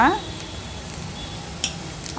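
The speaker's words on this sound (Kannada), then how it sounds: "ಈಗ ಕುದಿಯಕ್ಕೆ ಬಿಡೋಣ" Farm chicken curry cooked without masala simmers in a pot, giving a soft, steady bubbling hiss. A couple of light utensil clinks sound near the end.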